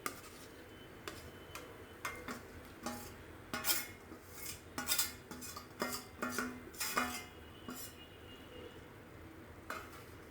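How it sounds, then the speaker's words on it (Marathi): Marinated prawns are mixed gently into half-cooked potatoes in a pan, with irregular sharp clinks and scrapes of a spoon against metal over a faint sizzle, and no talking. "आणि ही अलगद हलक्या हाताने अशी मिक्स करून घ्यायची."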